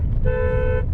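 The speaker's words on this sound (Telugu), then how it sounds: "హార్న్ కొట్టాలి" A car horn, sounded during a driving lesson in a Brezza, gives one short, loud, steady honk of about half a second over low engine rumble.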